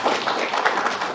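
An audience claps for a top-ranked medical student at a talk, a brief burst of dense, steady clapping heard close and fairly loud with no voices over it.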